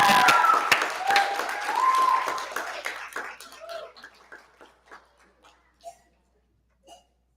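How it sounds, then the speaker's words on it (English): Applause for the 2022 graduates at a home school co-op graduation ceremony: a dense round of clapping from the audience that thins out into a few scattered, fading claps near the end. "Let's give another round of applause for our 2022 graduates."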